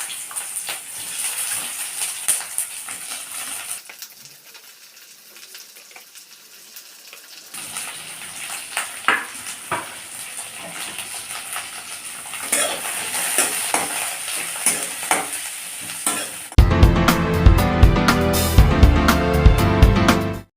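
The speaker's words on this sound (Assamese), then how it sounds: "এতিয়া তেলখিনি গৰম হ'ল আৰু এতিয়া তেলত প্ৰথমতে মই এই কাটি থোৱা পিঁয়াজ এই পিঁয়াজখিনি মই তেলত দিছোঁ" Chopped onions frying in hot oil for a chicken curry, a close, continuous sizzle with scraping and stirring from a spatula, growing louder and busier toward the end.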